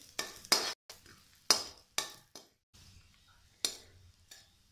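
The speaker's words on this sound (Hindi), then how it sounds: "इसे लो फ्लेम पे कुछ सेकेंड के लिए सौते कर लेंगे।" Whole spices and cumin sauté in ghee over a low flame as a spoon stirs the pan, producing sharp scraping clinks in irregular strokes with a faint sizzle between them.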